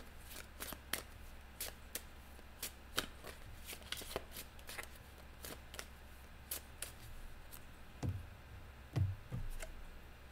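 A deck of tarot cards is shuffled close by, with repeated crisp riffles and slaps coming in irregular bursts, plus a few soft thumps near the end.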